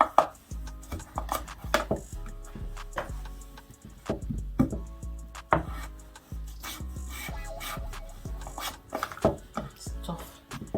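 A kitchen knife works through a tough root vegetable, likely potato or carrot, for a curry chicken one-pot meal, giving repeated close scraping cuts and knocks on a board in an irregular rhythm.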